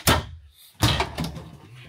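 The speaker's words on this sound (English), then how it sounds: "And then open up that drawer there." A drawer in an Alliance Avenue 24RK fifth wheel RV opens and closes with two quick wooden knocks and slides about a second apart, near and fairly loud.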